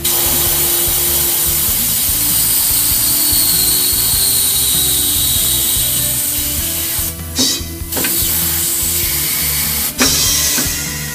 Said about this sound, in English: The center pedal is going to be used to break the bead.